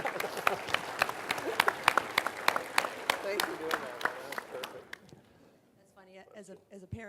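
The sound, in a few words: applause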